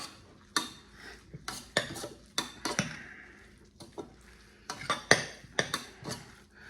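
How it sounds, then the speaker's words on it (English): A metal utensil repeatedly scrapes and clanks against a metal pan while mixing potato and egg, in quick, irregular strokes, close up and fairly quiet, with no voices. "I love the sound of metal scraping on metal."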